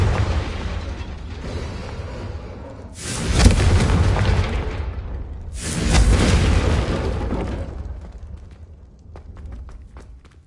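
The Confringo explosive spell in Hogwarts Legacy on PS5, two loud booming blasts a few seconds apart, each with a sharp onset and a rumbling decay over a background of game ambience.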